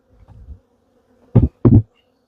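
Honey bees buzz loudly close up in short bursts, two strong swells after a fainter one, as a hive box is moved during a hive inspection.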